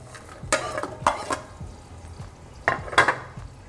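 Tomatoes and ground masala for beef biryani fry in a pot while a spoon scrapes and clatters against the metal in several short bursts over a quiet, faint sizzle.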